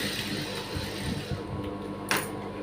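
A sewing machine stitches a blouse, running in a continuous mechanical whir with a faint rhythmic needle patter and a brief sharp clack near the end.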